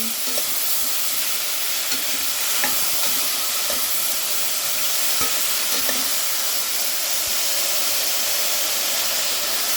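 Mushrooms frying in onion-flavoured oil, giving a steady, close sizzle and hiss throughout with faint occasional clicks of stirring, no voices.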